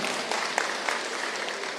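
Steady applause from a large audience at a political gathering of Kiambu county assembly members, with a dense, even patter of clapping and a few sharper claps throughout.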